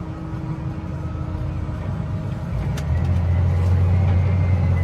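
Inside a farm vehicle loaded with chopped maize, a steady low engine drone and cab rumble fill the space, the hum deepening and swelling as it pulls away.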